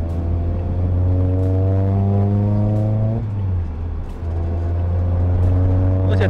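Toyota Vios 1.5L test car with a five-speed manual, driven hard at around 60 km/h: a loud, steady engine drone with rising harmonic sweeps as it revs through the gears, with a brief dip in the middle.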